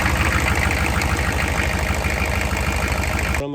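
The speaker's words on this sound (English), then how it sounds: "Now I'm going to start the engine in this thing" A GSC 6.5L diesel engine with a pre lift pump fuel filter runs at a steady, loud idle. The low, knocking rumble continues without a break for about three seconds and then cuts off abruptly at the very end.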